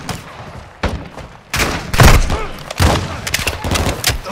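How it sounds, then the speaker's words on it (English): Gunfire in Call of Duty: Modern Warfare 2 (2022) during a cartel protection firefight, with loud, close bursts of shots and heavy thumps coming in irregular volleys after a quieter opening. "Get your cover and return fire!"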